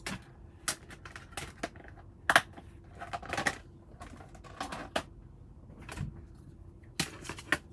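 A hand-cranked embossing machine presses paper for a junk journal, giving a series of sharp clicks and ratcheting knocks at uneven intervals, close and fairly loud, with no talking.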